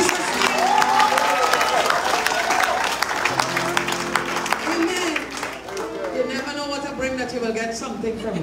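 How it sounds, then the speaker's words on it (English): Church congregation clapping during a Sunday morning service, a steady wash of applause mixed with voices and some sung or spoken tones over it, fading somewhat toward the end. "Clap for me in Jesus' name."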